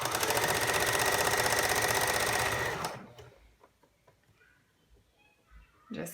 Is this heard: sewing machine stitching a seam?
yes